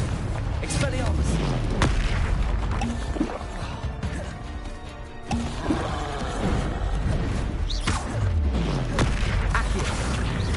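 Spell-casting blasts from a Hogwarts Legacy duel: repeated booms and crackling bursts, with swooping, whooshing impacts recurring throughout, all loud and dense; a voice can be heard in the mix.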